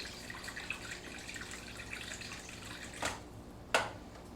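Discharge water from an aquarium maintenance setup trickles and splashes faintly and steadily, with two brief louder gushes near the end.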